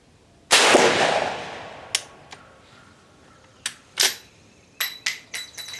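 A 50-70 cartridge made from a converted 32-gauge brass shotshell fires once with a loud, sharp report that rings and decays, followed by metallic clicks and clinks of the action and ejected brass.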